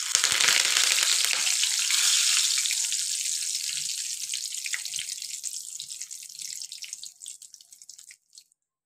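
Curry leaves crackle and sizzle loudly in three spoons of hot oil already tempered with mustard seeds and cumin, a dense frying hiss that gradually fades away.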